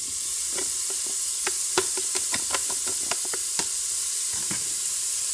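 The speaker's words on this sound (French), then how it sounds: "j'ajoute ma noix de beurre dans ma cuve, mes 100 g de lardons" Butter and bacon lardons sizzle in the preheated bowl of a Cookeo multicooker, a steady frying hiss with scattered sharp crackles and pops, close and moderately loud, no voices.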